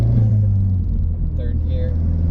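A manual car's engine drones low and steady inside the cabin as it shifts into third gear, a continuous rumble with faint chirps over it and no clear revving surge.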